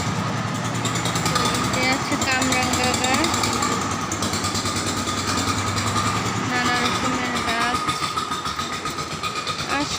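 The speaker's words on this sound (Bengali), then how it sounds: "আশেপাশে বাড়িঘর হচ্ছে, মেশিন এত চলে, এত শব্দ যে কোনো রকম কাজ করা যায় না ঠিক মতো।" Construction machinery running at nearby building sites in a residential area, heard as a loud, steady jackhammer-like mechanical clatter with a continuous engine drone throughout, overlapped by voices talking.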